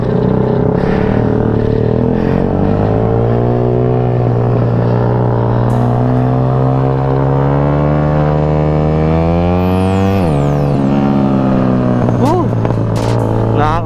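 Yamaha Sniper motorcycle engine at a racetrack, a loud, sustained drone with smoothly rising and falling pitch as it revs, holding close to the microphone with a sharp gear-like shift near the end.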